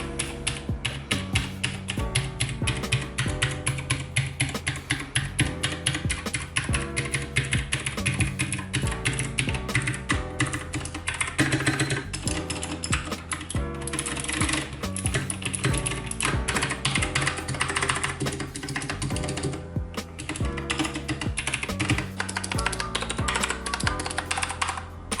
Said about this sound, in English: So I'm just gonna hit the keys a few times.